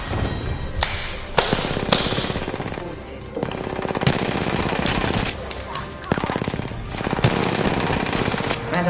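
Dense, loud gunfire from the video game Apex Legends, rapid automatic bursts with heavy thuds and sharp cracks filling the whole stretch almost without pause.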